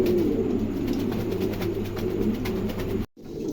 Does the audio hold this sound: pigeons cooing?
yes